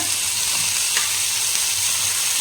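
Boneless chicken pieces fry in a pan with a continuous, close, even sizzle and faint crackle and no talking.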